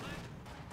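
Artillery bombardment in the World War II strategy game Company of Heroes 2, a short burst of rumbling shell impacts heard under game noise.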